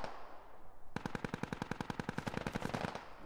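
Automatic gunfire in a military shooter video game, one long rapid burst of evenly spaced loud shots lasting a couple of seconds after a brief lull of background noise.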